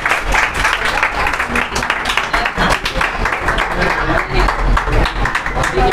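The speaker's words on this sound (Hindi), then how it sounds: "और मेडल के लिए बड़ा जोरदार ताली बजाओ एक बार फिर से बड़ा" Class 10 students at a coaching-class awards event clap for a medal winner, a dense, steady patter of many hands that continues throughout with voices mixed in.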